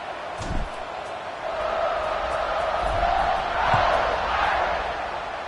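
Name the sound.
crowd cheering in a college football video game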